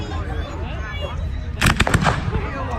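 Bonfire night fireworks crack and bang in a quick cluster of sharp bursts over steady crowd noise, with voices audible throughout.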